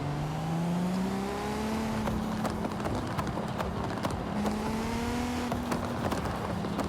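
Engine of a modified car in the Forza Horizon racing game, a steady droning hum with rising and falling pitch sweeps as it revs and shifts, continuous and fairly loud throughout.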